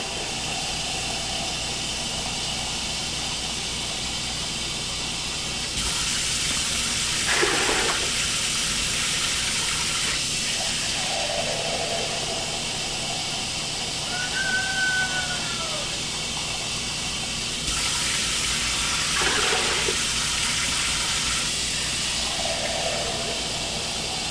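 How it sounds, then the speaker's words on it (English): Tap water running steadily into a pot for navy bean and ham soup, a continuous hiss and rush that swells louder in two long stretches, with faint household sounds in between. "go ahead and start adding the water to it."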